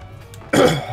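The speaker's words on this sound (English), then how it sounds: "Pardon my cough." A single loud cough from a gamer at a microphone, a sudden harsh burst close to the mic after a quiet stretch, trailing off into a throat-clearing rasp.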